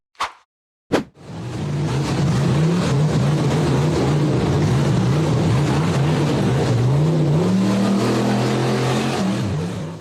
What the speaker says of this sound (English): brown and gray buggy with the word redemption on it accelerated through the muddy section and climbed up the rocky slope